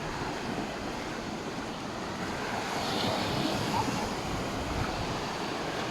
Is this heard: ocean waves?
yes